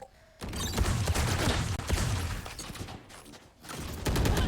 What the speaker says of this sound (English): Only one gunfire is being heard, I think.